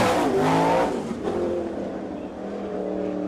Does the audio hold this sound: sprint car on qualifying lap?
yes